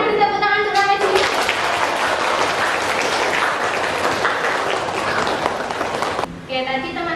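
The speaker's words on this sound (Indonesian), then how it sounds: "Silakan beri tepuk tangan untuk Ramajina." A classroom of students bursts into loud applause for a classmate's question, steady clapping for several seconds before it ends and talk resumes.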